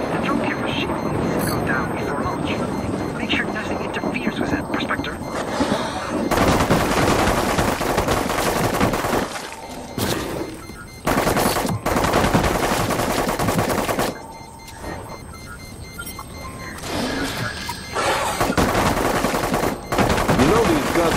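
Gunfire in The Cycle rattles in sustained automatic bursts with short pauses between volleys, loud and close, mixed with other game noise and occasional voices.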